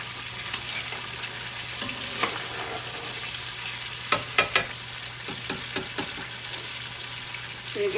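Country fried chicken cooks in a pan, a steady low sizzle under a faint mains hum, broken by a series of crisp spatula clicks and taps close by, no talk.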